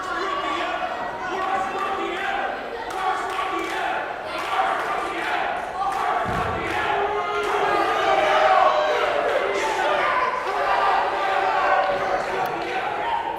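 A wrestling crowd jeers at a wrestler during his match against another wrestler, a dense arena roar of shouts and voices with thuds from the ring rising and falling throughout.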